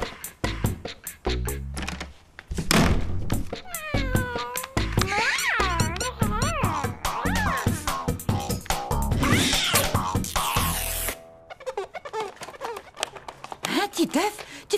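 A cat meows repeatedly in a cartoon scene, with rising and falling cries spread through the clip, mixed with lively talk and other effects.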